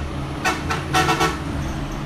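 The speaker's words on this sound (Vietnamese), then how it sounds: "Bóp còi inh ỏi trong khu dân cư" Several short horn toots from dump trucks in a residential area sound in a quick cluster, loud over a steady rumble of road traffic.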